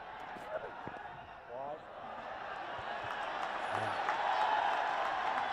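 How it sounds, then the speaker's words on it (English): A home crowd at a cricket match in Namibia cheers after a dot ball, a broad, steady roar of voices and some clapping that builds slightly in loudness, with a commentator talking over it. "The crowd celebrating this."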